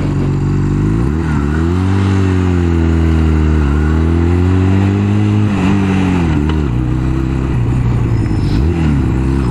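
A small motorcycle engine runs loudly and close up, idling with a steady rumble and rising into several revs, with no voices.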